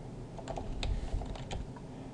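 Keys tapping on a computer keyboard while an email password is entered, a quick uneven run of soft clicks up close in a quiet room.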